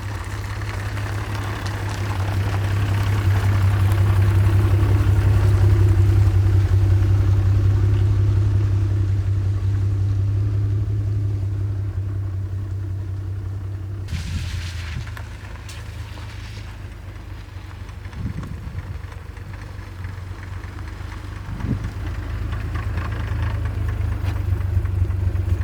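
The 4-liter straight-six engine of a 1970 Maserati Mistral Spyder 4000 drones steadily while driving, a loud, deep, continuous hum that rises and eases, with a few brief thumps in the later part and no voices.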